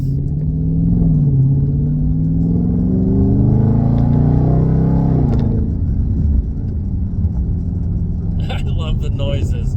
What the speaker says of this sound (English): when you hear a Hemi, you know it's a Hemi